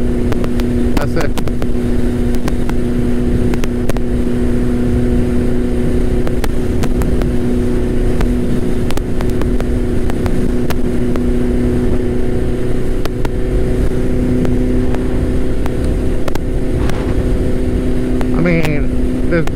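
Turbocharged Suzuki Hayabusa motorcycle cruising on a ride, a steady loud engine drone and wind rush running throughout with a constant low hum.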